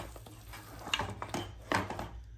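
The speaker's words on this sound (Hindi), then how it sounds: "इसे डालने के बाद फ्लेम को हाई पे रख के भूनते जाइए अच्छे से।" Mutton coated in ground masala paste stir-fried in a pan over a high flame, with soft scraping, stirring clatter and faint sizzling in a few close bursts, no talk.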